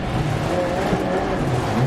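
A Citroen rally car in the video game DiRT Rally 2.0 roars along a stage at full power, the engine a dense, continuous growl with tyre noise, while a voice calls pace notes over it.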